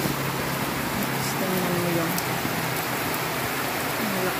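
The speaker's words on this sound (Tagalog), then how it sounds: "Lakas ng ulan din sa kabila." Heavy rain pours steadily in a rural province setting, a dense, loud hiss that fills the whole stretch with faint low tones underneath.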